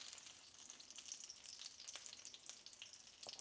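A piece of wahoo fish sears in a hot pan with a steady, close sizzle and crackle that runs throughout, with soft pops and no voices.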